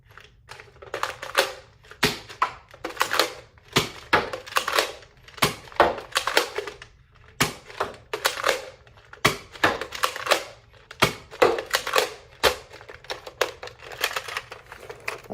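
A Nerf Maverick Rev-6 revolver blaster fires Elite and Elite 2.0 foam darts, a steady run of sharp plasticky snaps and cocking clacks repeating every half second or so, close up with no talking.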